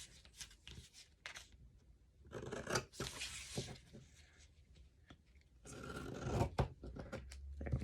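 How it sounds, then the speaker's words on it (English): Scissors snip through a corner of paper for a no-sew glued book, a few close, crisp cuts mixed with rustling and tearing of the sheet, no talk. "let's cut the corner off of this"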